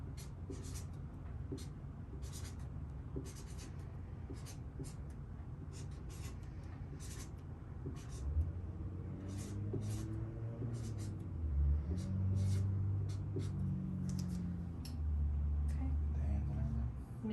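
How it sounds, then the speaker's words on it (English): Pen or pencil strokes scratch across a sheet of paper in quick repeated bursts while someone draws a clock face, with low background rumble and murmured talk in the later half. "go ahead and just draw me a normal face clock on this piece of paper."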